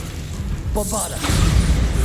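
Bombarda blasting spell in Hogwarts Legacy, a brief spoken voice followed by a deep booming explosion that swells and rumbles to the end.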